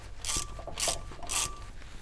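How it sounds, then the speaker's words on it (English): A 14 mm wrench backs a bolt out on a Mighty Max truck, giving three evenly spaced rasping, ratcheting strokes close by with brief pauses between them and no talking. "we want to take our 14, run our bolt out real quick"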